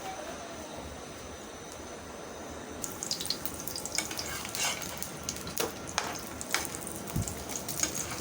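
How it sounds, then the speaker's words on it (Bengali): An egg and potato paratha fries in hot oil in a pan, a soft steady sizzle overlaid with scraping and clinking of a utensil against the pan, close and moderately loud, no talking. "মোটামুটি এক পাশটা ভাজা হলে আরেক পাশটা করে দিতে হবে।"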